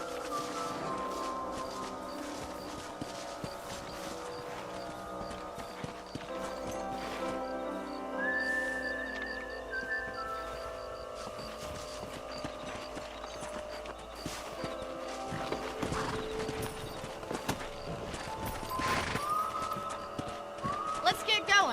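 Horses clip-clop steadily across open ground in the western video game Red Dead Redemption, hooves beating a continuous rhythm with an occasional whinny, under music and ambient game sound throughout.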